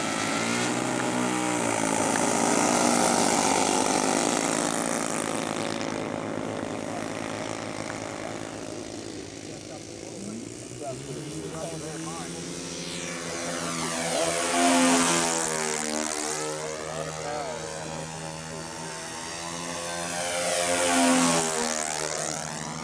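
A model airplane's propeller engine at takeoff whines loudly and steadily, then swells and fades in repeated Doppler sweeps as the plane passes around the flyer at a control-line model aviation event, with no talking.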